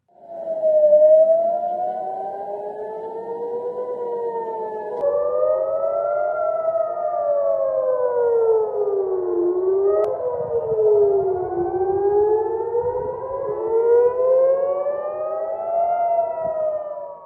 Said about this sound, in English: Those were air sirens blaring across various sites in Israel on Tuesday morning, warning residents of incoming missile attacks from Iran.